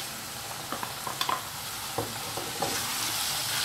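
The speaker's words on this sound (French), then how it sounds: "on mélange le tout, encore une fois, et on laisse frire 2-3 minutes" Peas and carrots being stirred and fried in a pan as filling for vegetarian nems: scattered scraping and clacking stirring strokes over a soft, continuous sizzle.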